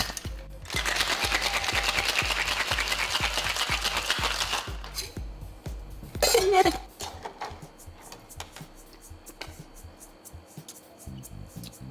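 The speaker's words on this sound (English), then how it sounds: "Then I'm going to give that a shake." A cocktail with lime juice and a big spoonful of ginger is shaken hard in a shaker, giving a loud, steady rattling rhythm for about five seconds. A brief clatter follows, then quieter handling sounds.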